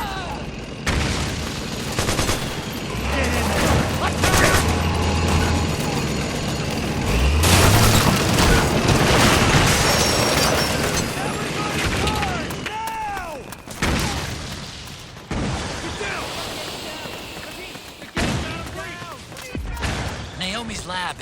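Gunfire and explosions from the video game Metal Gear Solid 4, with dense rattling bursts and heavy booms throughout, shouted voices among them, and a louder blast cluster partway in.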